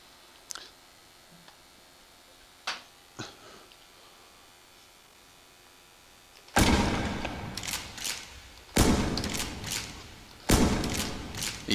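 Shotgun loading in the game Breach Prototype: a few faint, sparse clicks and clacks of shells going in, followed by loud, close blasts or heavy thuds repeating at intervals.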